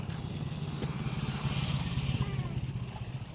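Small motorboat engine running steadily on the water during a fishing trip, a low throbbing drone that is close and fairly loud throughout, with faint voices underneath.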